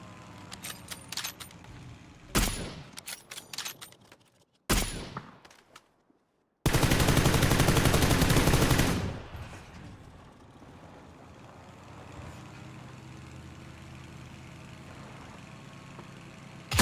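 UMP submachine gun fire in the PUBG video game: a few sharp scattered shots, then a loud, dense sustained burst lasting about two seconds before fading into a low, steady in-game background.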